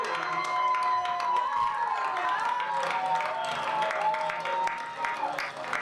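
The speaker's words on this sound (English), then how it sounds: "A nice clap and appreciation by the crowd here for Muddy Waters." Crowd applauding and cheering at a kickball tournament final, steady clapping mixed with shouts from many spectators throughout, loud and fairly close, with a commentator's voice running over it.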